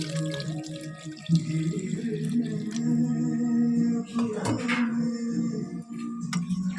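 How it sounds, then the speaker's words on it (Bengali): A small amount of water poured into a pan of cooking chicken, a close, continuous trickling and splashing pour with a brief louder splash midway. "অল্প পরিমাণে জল দিয়ে দেবো দেখো আর অল্প জল দিচ্ছি"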